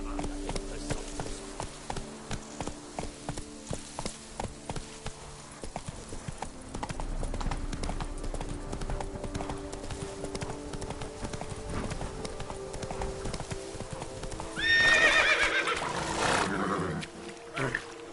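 Steady clip-clop of a horse's hooves in The Witcher 3: Wild Hunt, Blood and Wine expansion, a rhythmic gallop close by over background game sounds, building to a loud neigh near the end.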